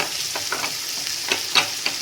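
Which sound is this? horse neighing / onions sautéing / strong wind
onions sautéing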